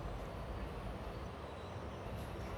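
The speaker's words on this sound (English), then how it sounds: "we are pulling into Tiruvalla station" Passenger train pulling into Tiruvalla station at night, a steady low rumble and hiss of rolling wheels and carriage noise, continuous and fairly faint with no voices.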